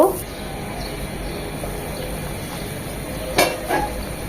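Water boils in a pan with half-cooked radish while fish curry is being made, giving a steady, fairly loud hiss and bubble. Near the end come two brief knocks of a utensil against the pan.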